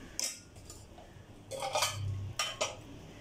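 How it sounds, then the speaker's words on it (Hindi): A spoon scrapes and clinks against a cooking pot while chana masala is stirred, giving a few short, soft metallic knocks and scrapes close by. "इसको अच्छे से मिक्स कर लें इस तरह से"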